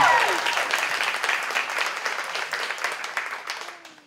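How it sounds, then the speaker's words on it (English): Wedding reception guests applauding the new bride and groom, dense sustained clapping from a large crowd that starts loud and slowly fades over four seconds, with a faint voice underneath. "a round of applause for your new bride and groom, the new Mr. and Mrs. Harrison."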